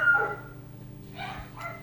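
Dogs in a house give a few short barks and yips, one near at the start and two more briefly toward the end, with quieter stretches between.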